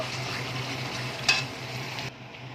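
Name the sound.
water added to hot oil with fish curry, sizzling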